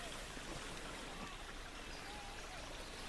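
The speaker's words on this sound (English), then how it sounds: "Here's the creek." Creek water flowing, a steady close rushing and trickling wash that fills the whole stretch evenly without pause.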